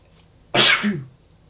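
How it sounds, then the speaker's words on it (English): A single sharp sneeze bursts out close by, a quick explosive puff trailing into a short voiced tail, surrounded by quiet. "I can always sneeze."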